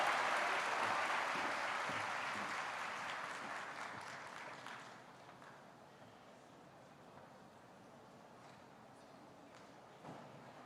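Audience applause at a university class induction and pinning ceremony, loud and sustained at first, then tapering off to a quieter room murmur after about five seconds.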